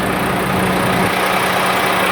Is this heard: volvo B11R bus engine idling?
yes